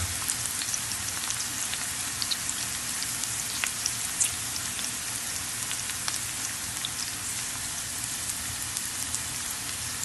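Squid for binagoongang pusit fries in a hot pan, a steady, dense crackling sizzle with scattered pops throughout, close and continuous with no talk.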